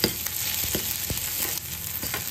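Onion browning in a pan for a quick Marathi breakfast dish gives a steady, close crackling sizzle with a few sharper pops throughout. No voice is heard.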